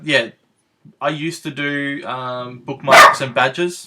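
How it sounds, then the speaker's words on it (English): A dog barks excitedly indoors in a few sharp bursts, loud and close, overlapping a person speaking. "Pardon me, that's my dog going crazy."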